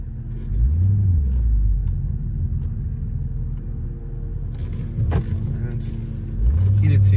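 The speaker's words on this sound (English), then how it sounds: "this car means business, downshifted into first gear" A Mercedes CLK63 rumbles with a deep, loud engine note as it drives, and it revs sharply at the start and again near the end, with some talking over it.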